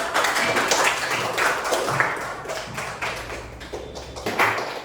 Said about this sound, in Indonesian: Silakan berikan tepuk tangan untuk